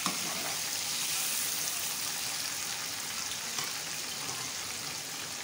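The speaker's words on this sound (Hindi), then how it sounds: "थोड़ा सा फ्राई करें हरी मिर्चों को।" Steady, dense sizzling of green chilies frying in hot oil, loud and close, with no voices.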